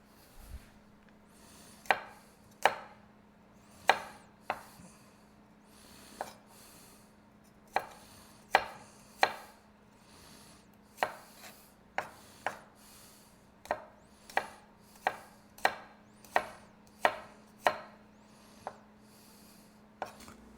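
Knife slicing through garlic cloves on a cutting board, a steady series of sharp, close chops repeating at a brisk, fairly even rhythm with no voices.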